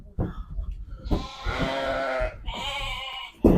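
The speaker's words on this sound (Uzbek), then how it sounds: "Mana qo'ylar qadrdonlar." A newly arrived batch of sheep bleats loudly and close by on a farm, with several overlapping drawn-out calls in quick succession and no talking.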